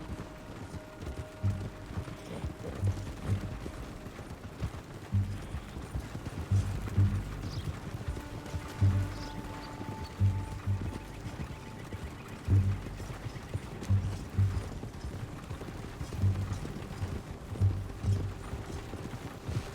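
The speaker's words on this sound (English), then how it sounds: "they're not gonna hear this horse just galloping up alongside them" In a western video game, a horse gallops with a steady, rhythmic clip-clop of hooves, fairly quiet and continuous under a low rumbling background.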